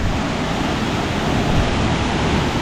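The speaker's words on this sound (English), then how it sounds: "I'm literally right at the bottom of this waterfall right now." Powerful Mok Fa Waterfall in Pai, Thailand, roaring close up from right at its base as a steady, loud, dense wash of falling water that fills the whole moment without pause.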